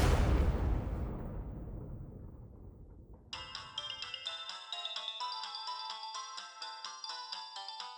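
A phone ringtone starts partway through, a bright repeating electronic melody playing loudly on its own after a fading rumble.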